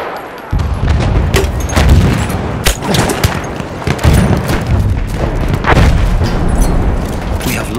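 Battlefield 1 combat with grenade blasts and dense gunfire, loud and continuous booms and rapid shots layered over one another close by, no voices.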